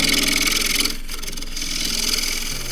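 A wood lathe spins Kauri pine while a 3/8 bowl gouge cuts it, a close, continuous shearing hiss over a steady motor hum that dips briefly and then resumes.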